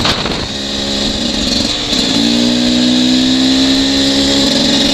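Beta 300RR dirt bike on a first ride during break-in, its engine droning loud and close, pitch dipping then climbing steadily as the throttle opens.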